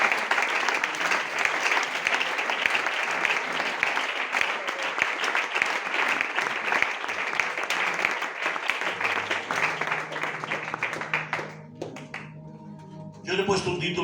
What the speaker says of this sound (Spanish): ¿Quieres dar un fuerte aplauso a la palabra del Señor?